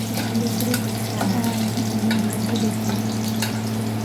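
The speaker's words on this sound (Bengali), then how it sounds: "এবার নাড়া দে আগে নাড়া দে রসুনটাকে" Garlic fries in oil while being stirred in a pan, a constant hissing sizzle with a low steady hum beneath and occasional scraping taps, close and loud.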